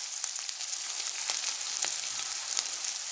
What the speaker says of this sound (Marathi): तेलामध्ये चांगलं परतवून घ्यायचं, शिजवून घ्यायचं, असं तळून घ्यायचं बऱ्यापैकी.